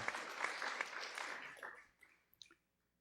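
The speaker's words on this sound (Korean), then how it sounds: "잠깐 일어나면 박수로 환영하겠습니다" A church congregation applauds to welcome new members, dense clapping that starts full, thins out after about a second and a half and ends in a few scattered last claps before quiet.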